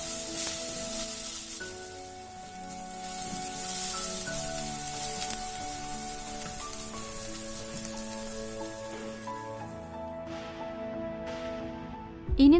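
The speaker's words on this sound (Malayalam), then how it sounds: "ഇഞ്ചിയുടെയും വെളുത്തുള്ളിയുടെയും പച്ചമണം പോകുന്നത് വരെ നമുക്കിത് നല്ലപോലെ ഒന്ന് ഇളക്കി കൊടുക്കാം" Ginger and garlic fry in a pan while being stirred, a continuous hissing sizzle heard under background music until it cuts off near the end.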